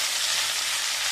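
Food sizzles in a pan while being stirred, a close, even hiss of frying with a soft scraping texture throughout this short moment, no voice.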